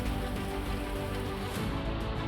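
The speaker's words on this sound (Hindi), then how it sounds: "जिले में 8 दिनों की उमस और गर्मी के बाद बारिश हुई।" Heavy rain pours onto city streets in Madhya Pradesh after days of heat, a dense, unbroken hiss of drops close by with no voices.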